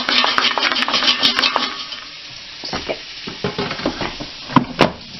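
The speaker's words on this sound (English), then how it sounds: "I'm going to give them a shake" The hot food basket of a Tower air fryer is shaken, giving a dense burst of rattling and sizzling, then scattered metallic clanks and knocks as the basket is handled and set back, close and fairly loud.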